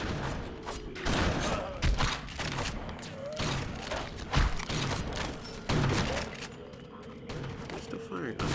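Gunfire in the video game BloodRayne comes as repeated, fairly quiet thumping shots and clanks in a dense, busy mix, with someone talking over it.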